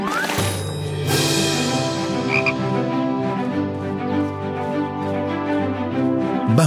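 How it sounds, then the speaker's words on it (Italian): A frog croaking near a pond in a cartoon scene, a steady series of close, loud croaks with a rhythmic pulsing buzz over a sustained musical backing. "Guardate, bambini, una rana!"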